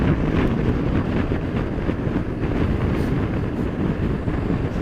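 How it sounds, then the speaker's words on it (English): Strong wind buffets a rider on a motorcycle with full fairing and large panniers, a loud, continuous rumbling roar pressing on the microphone without a break. "That wind is strong here. I feel it pushing me about."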